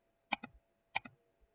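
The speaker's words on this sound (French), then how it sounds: "le bruit du clavier, je suis vraiment désolé, ça doit être insupportable le bruit du pad" Two quick pairs of keyboard and touchpad clicks, close and crisp, spaced about half a second apart in a quiet room, with a soft trailing tap at the end.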